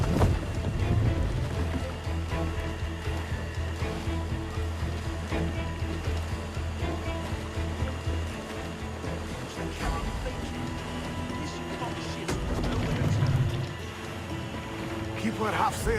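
A sailing ship at half sail glides through water in the pirate game Assassin's Creed Black Flag, with continuous wash, creaking and wind beneath steady voices and game music.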